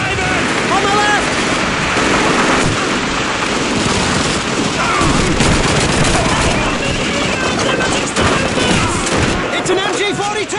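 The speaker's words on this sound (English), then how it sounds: "It's an MG-42!" An MG-42 machine gun fires in sustained, dense bursts during Call of Duty 2 combat, loud and continuous, with shouted voices and other battlefield gunfire mixed in throughout.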